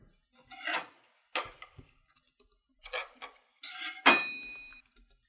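Knife-cutting sound effect: a handful of short, sharp metallic swipes and clinks separated by silence, crisp and close, the last one ringing briefly.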